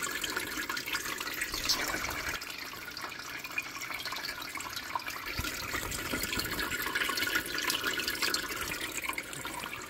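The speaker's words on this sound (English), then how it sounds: "Now I am turning on the pump again." A pump pushes water through a hydroponic irrigation system, giving a steady, close rush and trickle of flowing water that continues unbroken with no voices.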